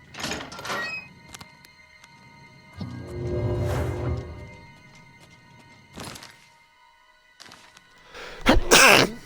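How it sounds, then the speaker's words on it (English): Sneezes from characters in the game The Elder Scrolls IV: Oblivion Remastered, heard as a few short bursts spread across the clip, the loudest one sharp and close near the end. "Then another one sneezes."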